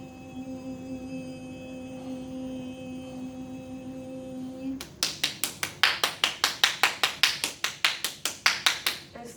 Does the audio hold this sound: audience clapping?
yes